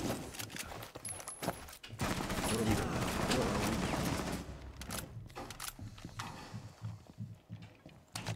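Gunfire in Rainbow Six Siege ranked play, a sustained rattle of automatic shots in the middle of the clip with scattered bursts before and after, set among other game noise.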